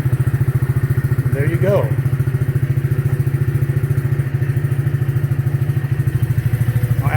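Youth ATV engine idling after starting, a loud, rapid, even putter that runs throughout, with a brief voice speaking over it.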